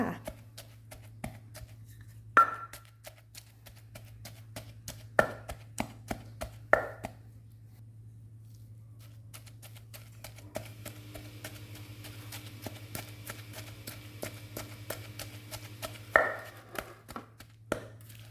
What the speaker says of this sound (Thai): ตำไปเลยค่ะตำไปเลย